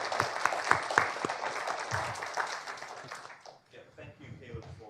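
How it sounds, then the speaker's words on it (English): Audience applause for two panel speakers at the close of a conference panel on aerial technology and regulation, a dense steady clapping that swells at first and then thins out, with a voice talking under it near the end. "Well, give Alan and Richard a round of applause."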